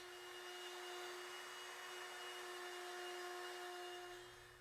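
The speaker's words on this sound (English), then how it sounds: "we go back to the multi-router and cut the mortise in the exact center of each foot" Multi-router cutting a mortise in quarter-sawn white oak, a steady high-pitched motor whine with a constant tone, loud and unbroken before tapering off at the end.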